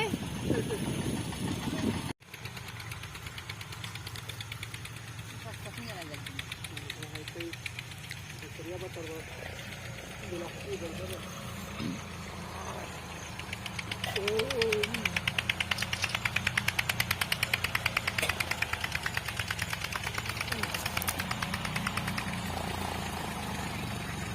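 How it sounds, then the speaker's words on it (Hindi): Several tractors run in a farm field, a steady engine drone with a rough knocking idle that grows louder partway through, with a voice talking over it. "1 2 3 4 5 ट्रैक्टर यहीं चल रहा है।"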